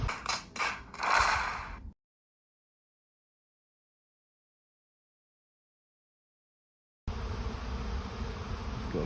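A honey bee swarm in midsummer buzzing, a steady, dense hum close by that comes in after a silent gap, following brief rustling and handling noises.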